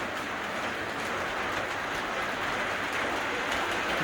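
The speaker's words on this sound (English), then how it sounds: "The train around the station." An O gauge model train runs steadily past the station on a layout, giving a continuous close rumble and rattle of wheels on track with no clear pauses or voices.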